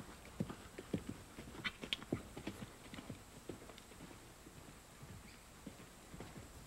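Horse hooves clip-clop in an irregular, moderately paced rhythm during riding and limbering exercises, fairly faint and distant, with no talking.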